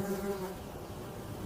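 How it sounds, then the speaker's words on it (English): A European wasp buzzes steadily while fighting a colony of ants, a close, continuous insect drone with no voices. "European wasps are quite dangerous, often attacking when their nests are disturbed."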